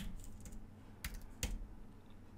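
Sparse clicking keystrokes on a computer keyboard, a few distinct taps spaced apart over a low background hum, close and fairly quiet with no talking.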